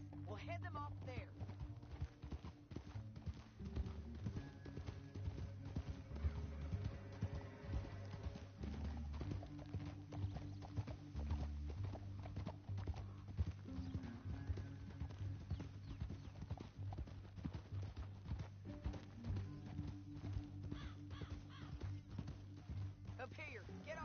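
Rapid hoofbeats of galloping horses pound steadily under dramatic music and occasional talk, with a horse whinnying now and then.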